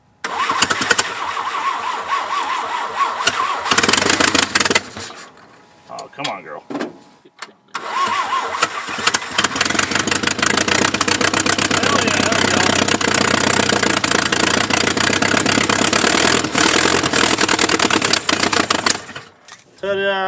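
An abandoned Jeep around 80 years old cranks, catches and roars into loud, rough running, stumbling and briefly dying before restarting and holding a steady uneven idle, with a person speaking briefly.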